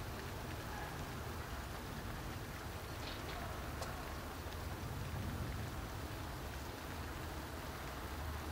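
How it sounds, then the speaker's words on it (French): Steady rain shower falls outdoors in a rainbow-and-sun scene, a continuous soft hiss of drops pattering on surfaces, faint and even throughout with no voices. "une belle averse. On voit bien les gouttes."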